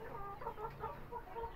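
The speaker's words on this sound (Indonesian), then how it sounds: "Ini ayam saya yang bangkok jago-jago sudah saya sendirikan." Bangkok roosters and chickens in a coop, a flurry of repeated clucks and squawks from several birds, fairly near, over a low background hum.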